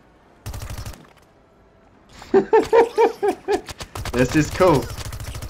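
Rapid bursts of automatic gunfire from a plant's machine guns in the video game Plants vs. Zombies: Battle for Neighborville: one short burst, then someone talking excitedly, then a longer sustained burst of rattling fire.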